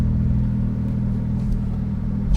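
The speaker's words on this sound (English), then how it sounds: "We do have the Sport exhaust option. Press that for maximum Porsche sounds" A 2019 Porsche GT3 RS Weissach idling with its Sport exhaust closed, a steady low engine rumble at close range that holds even throughout, then swells briefly at the very end.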